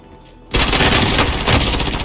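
Gunfire in the Call of Duty video game as a player shoots an enemy: after a quiet moment, a sudden loud, dense stream of rapid shots begins and continues steadily to the end.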